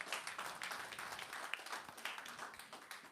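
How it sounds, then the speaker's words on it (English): At an awards ceremony for a youth climate adaptation challenge, an audience gives a round of applause, a steady wash of many hands clapping that sounds distant and faint. "Let's give a round of applause,"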